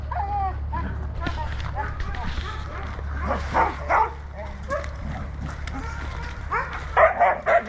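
Energetic husky sled dogs at an Arctic Circle kennel yip, whimper and bark in bursts, some near and some farther off, while a person talks over them and a low steady hum runs underneath.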